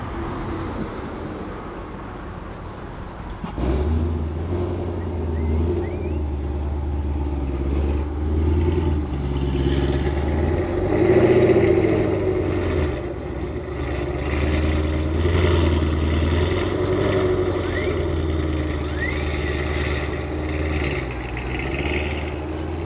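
A Chevrolet C7 Corvette engine starts abruptly after a few seconds of near quiet, then holds a deep, loud rumble close to the exhaust pipes, swelling into a stronger rev about midway before settling back toward idle.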